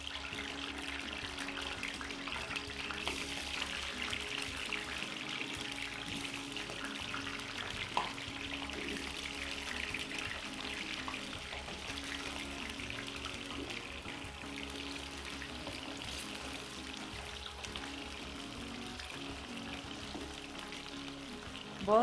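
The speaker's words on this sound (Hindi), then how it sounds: "फ्राई करने के लिए आलू डालेंगे।" Potato pieces frying in hot ghee give a steady, close, hissing sizzle that holds evenly throughout, with no voices over it.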